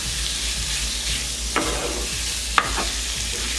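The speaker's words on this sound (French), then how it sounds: "je remue comme il faut" Shrimp coated in taco spice mix sizzle in a hot pan while being stirred, a steady loud frying hiss with two sharp scrape or clack accents from the utensil, close up and without talk.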